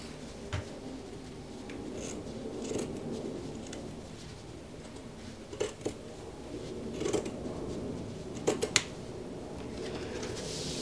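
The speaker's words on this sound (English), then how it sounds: "This is all the excess that we don't need that we're cutting away now." Fabric scissors trim excess material from a handmade baby dress, giving faint scattered snips and soft rustling that peak in a few sharper cuts near the end.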